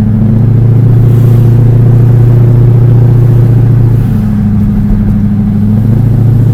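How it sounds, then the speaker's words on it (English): Lexus LS400 sedan engine running steadily while driving, a loud, close mid-pitched drone with a gear shift around four seconds where the pitch drops and settles, continuous and alone without talk. "the car shifts good, the tranny shifts really good. Motor runs flawlessly."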